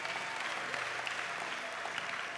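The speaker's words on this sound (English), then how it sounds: "Are you going to clap or what?" An audience at a church community gathering in Kawempe breaks into steady clapping, a dense, even wash of many hands sustained throughout.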